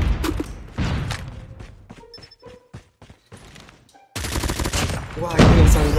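Rapid bursts of gunfire from the Holger rifle in the Call of Duty Mobile shooter game, dense and loud at the start, thinning into scattered shots, then a heavy sustained volley near the end.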